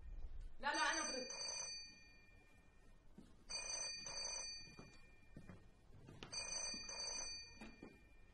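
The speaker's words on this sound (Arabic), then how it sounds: "التليفون بيرن" A telephone rings in three repeated bursts of bright electronic trills, fairly close, with people talking in between.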